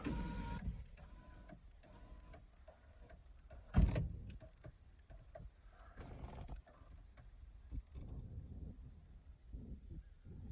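An electric window regulator motor in a Peugeot 406 Coupe door whirring as it drives the glass, a sustained mechanical hum with a sharp clunk partway through, heard close with no talk.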